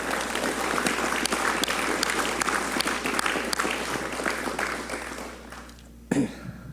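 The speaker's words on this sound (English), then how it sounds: "So I'd like to give a round of applause for all of our" A swearing-in ceremony for a fire chief, where an audience applauds steadily for about six seconds before the clapping thins out and stops, followed by one brief burst of noise.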